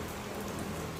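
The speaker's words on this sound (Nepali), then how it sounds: "पानी पऱ्यो" Rain falls steadily outdoors, a close and even patter-hiss with no talking and no breaks.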